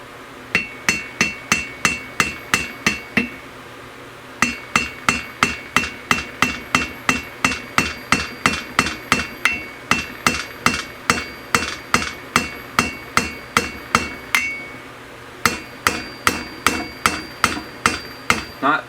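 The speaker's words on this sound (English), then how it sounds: "Stick it in the hole, you hammer it down very lightly." Steady hammer taps drive a Phillips screwdriver into the hole of a Thunderbolt chopper motor while its bearings are replaced, a close, even rhythm of sharp metallic knocks with two short pauses, no talking.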